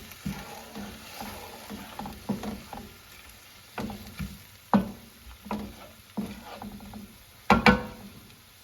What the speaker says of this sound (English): We're gonna deglaze with some white wine.